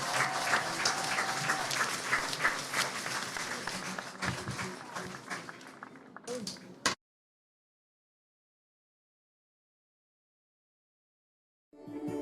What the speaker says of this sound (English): Let's have one more big round of applause for our king, queen, court, and all of our homecoming candidates.